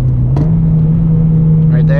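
Manual car engine rising in a quick blip during a rev-matched heel-toe downshift, loud and close from inside the cabin, with a steady engine drone throughout.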